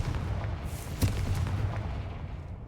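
Confringo blasting spell from the Hogwarts Legacy video game, a loud booming explosion with a sharp crack near the one-second mark, then a rumbling tail that fills the rest of the moment.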